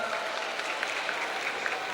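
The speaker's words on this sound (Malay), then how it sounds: "Tepuk tangan sekali untuk pelajar wanita." Audience at a patriotic independence-night school event applauds female students, a steady, dense wash of many hands clapping that fills the whole stretch without a break.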